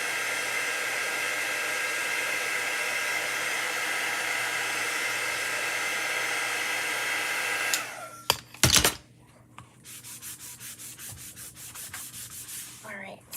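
Heat tool blowing hot air over a chalk paste transfer, a steady loud whooshing roar for about eight seconds that cuts off with a couple of clunks, followed by faint rhythmic rubbing.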